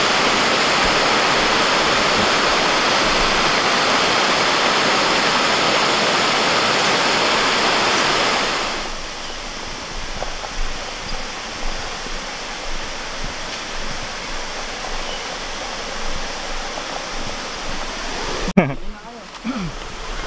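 Waterfall at Hydro Falls on Asin Road in Tuba, Benguet, a loud, steady roar of rushing water that suddenly drops to a softer, more distant flow with some crackling handling noise near the end.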